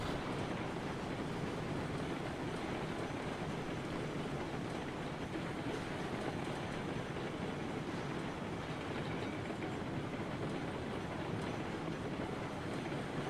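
A long freight train rolls steadily through a Railroads Online game world, a continuous dense rumble of wheels and rail noise that holds at an even loudness throughout with no talking.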